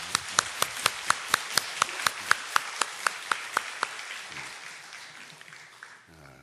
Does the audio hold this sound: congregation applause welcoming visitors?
yes